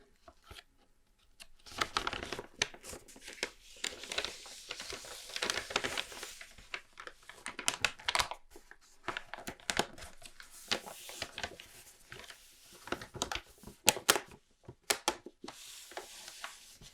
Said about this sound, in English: So we have some crinkling going on today.